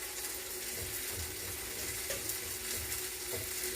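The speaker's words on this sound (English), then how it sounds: "So we're just going to let those sizzle and cook for a while." Crab sizzles steadily on a hot panini press for a healthy chimichanga, a continuous close hiss of frying with faint crackles and no voices.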